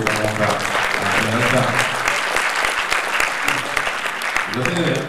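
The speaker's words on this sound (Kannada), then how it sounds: "ಅದು ದಯವಿಟ್ಟು ತಾವೆಲ್ಲರೂ ಒಂದು ಚಪ್ಪಾಳೆ" Dense, steady applause from an audience at a Kannada public event about BRIMS hospital, continuous and fairly loud throughout, with a low murmur of crowd sound beneath the clapping.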